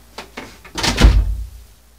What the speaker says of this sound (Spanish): Tomas la puerta, jalas,